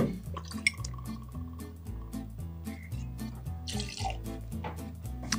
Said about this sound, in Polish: najpierw shaker, do którego wlewamy po kolei 30 ml starzonego rumu, 30 ml porto